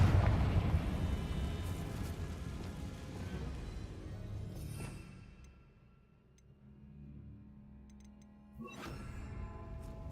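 A Confringo fire spell explodes in the game Hogwarts Legacy, a loud booming blast with a rumbling tail that decays into quiet before another sharp impact near the end.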